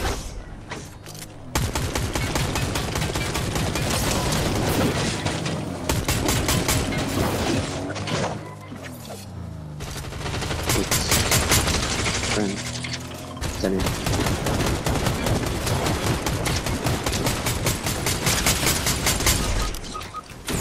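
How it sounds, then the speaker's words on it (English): Rapid, repeated shotgun blasts in a Fortnite match, a dense near barrage of sharp gunfire that runs almost without pause, with players talking over it. "You're spamming the shotgun"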